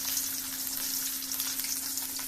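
Food sizzles in a hot pan while a rohu fish head and vegetable dish is cooked: a steady, close, even frying hiss with no voices over the full stretch.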